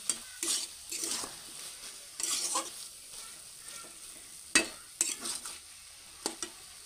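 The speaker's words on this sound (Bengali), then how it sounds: "এবার একটু নেড়ে চেড়ে এটাকে নামিয়ে নেব।" A spoon scrapes and stirs a banana stem and moong dal curry in a pan, giving soft intermittent scraping bursts and a few sharp clinks against the metal over a faint sizzle, fairly quiet and close.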